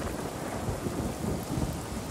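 Steady rain and a low rolling rumble of thunder in the Spider-Man 2 video game, a dense, continuous wash of sound with no voices over it.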